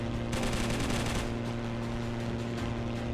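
Aircraft machine guns rattle in steady sustained bursts at a Dornier 17 bomber in a Battle of Britain flight game set with 303 Squadron, loud and continuous over a droning engine hum, strongest in the first second before easing slightly.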